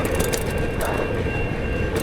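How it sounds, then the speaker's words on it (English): A train rumbles past close by, loud and continuous, with rattling wheels and faint metallic squeal. "All you had to do was keep up with the train, CJ."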